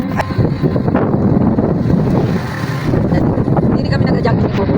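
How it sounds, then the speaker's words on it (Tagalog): Strong wind blowing outdoors at a market, loud continuous rumbling buffeting across the microphone throughout, with faint voices mixed into the roar. "Medyo mahangin ang ano, lakas ang hangin."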